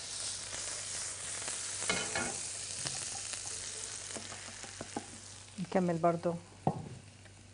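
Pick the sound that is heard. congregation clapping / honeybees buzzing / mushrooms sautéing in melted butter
mushrooms sautéing in melted butter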